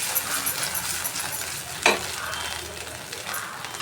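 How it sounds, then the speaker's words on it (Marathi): Brinjal sautés in a pan as a spoon stirs it, making a constant close sizzle and frying crackle with one sharp clink of the spoon against the pan midway. "वांगी अशा प्रकारे परतून घ्यावी. चमच्याने परतून घेतली तरी चालेल."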